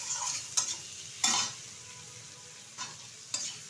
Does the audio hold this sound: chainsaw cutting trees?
no